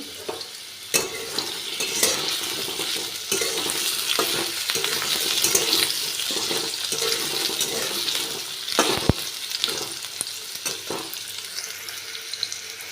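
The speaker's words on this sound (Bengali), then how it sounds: "আলুটা আগে একটু ভেজে নিচ্ছি" Potatoes sizzle and crackle in hot oil with no water added while a utensil scrapes and stirs the pan in irregular strokes, close up.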